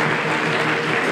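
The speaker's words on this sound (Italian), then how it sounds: "fate un applauso per favore a Nicolò Vaiente" A brief burst of dense, loud applause from the audience at a sommelier diploma ceremony in the Veneto, continuous clapping with no pauses.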